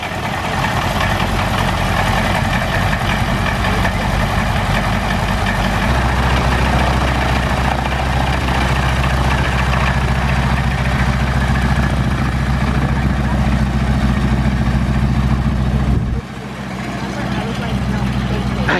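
A 1930s World War II-era training airplane's engine idles nearby in a steady low rumble, shifting to a slightly deeper drone partway through and briefly dipping near the end, with crowd chatter underneath.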